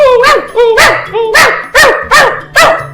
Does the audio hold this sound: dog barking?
yes